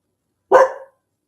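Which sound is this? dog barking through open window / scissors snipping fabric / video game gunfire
dog barking through open window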